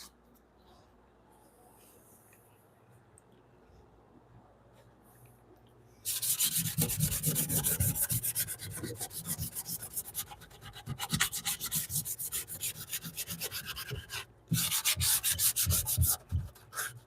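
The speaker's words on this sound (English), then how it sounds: "Maybe do another sanding." Wood being sanded by hand while restoring an antique chest in a workshop, steady loud rubbing strokes starting after a quiet stretch, continuing with brief pauses and close to the listener.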